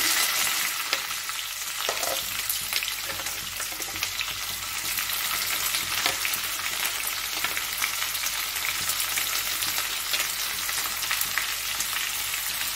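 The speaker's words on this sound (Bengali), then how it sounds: "একটু রসুনটা আলাদা করে ভেজে নিই, তারপরে পেঁয়াজটা মিশিয়ে নেব" Garlic and onions fry steadily in a pan, giving an even, close crackling sizzle for the whole stretch, with a brief stir scrape near the start and no voices.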